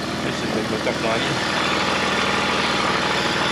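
A car engine idles steadily and loudly with the hood open, a continuous close rumble while people talk nearby.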